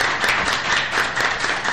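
A crowd at a Haitian konpa concert keeps up steady, dense applause and clapping, loud and close, with no break.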